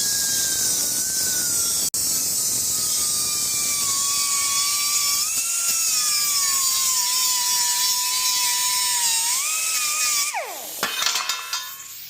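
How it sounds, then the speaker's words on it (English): Continuous high-pitched whine of a grinder or cutting tool on metal, shaping parts to clear a tunnel ram intake on a big-block Ford 460, with the pitch wavering as the load changes and the tool spinning down near the end; no one speaks. "all I'm doing is just really just marking it, grinding it, cutting it a little bit just to get a good fit"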